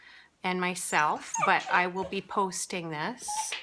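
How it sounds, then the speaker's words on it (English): A dog whimpering and yipping close by, with high whiny cries and short barks mixed in while someone talks over it. "that's my dog here."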